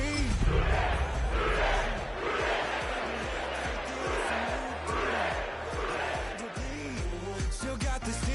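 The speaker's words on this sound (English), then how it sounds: "sellout crowd has arrived at Acor Stadium in Cincinnati" A sellout stadium crowd roars at a Bengals vs Patriots football game at the Ohio riverfront in Cincinnati, a steady dense swell under a loud announcer's voice with music-like tonal sweeps.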